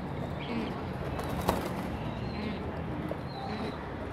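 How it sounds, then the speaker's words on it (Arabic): Pigeons, some of them sick, sit in an isolation enclosure and coo softly and rustle against steady background noise. A brief flutter is heard, and faint voices may be present. "ده طبعا الحمام اللي في العزل"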